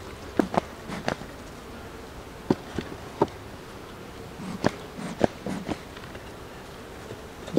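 Intermittent buzzing of honeybees flying close by at a hive in a Quebec apiary, brief passes coming and going over a quiet outdoor background.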